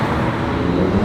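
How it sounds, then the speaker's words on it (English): Steady roar of a Ferrari sports car engine, loud and close, a continuous rumble without talk. "Endless Ferrari."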